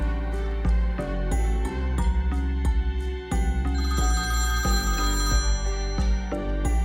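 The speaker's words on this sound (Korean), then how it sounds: "분명 오스트리아가 건 전화일 거야." A telephone rings in a cartoon scene, sounding a steady, repeated electronic ring pattern close up with no voices.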